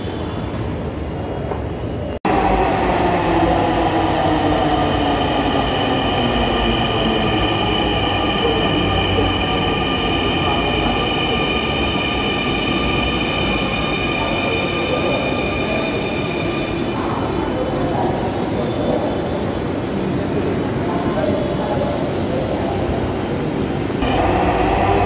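A metro rail train runs close by with a loud, continuous rumble that starts abruptly and carries faint wheel squeal and rail noise for about twenty-five seconds, with no talking.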